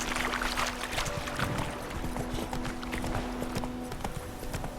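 Roach, Geralt's horse in The Witcher 3, trots with steady, rhythmic clip-clop hoofbeats over ground, moderately close, joined by faint ambient game music and no talk.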